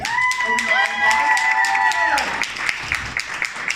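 A crowd at a Halloween drag show in a bar claps and cheers loudly, partly covered by a long held vocal tone at first. The clapping carries on after the tone stops and then thins into scattered claps.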